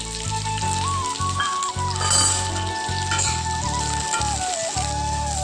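A steady, loud sizzle of diced onions frying in hot oil for a cauliflower roast runs throughout, with music playing over it.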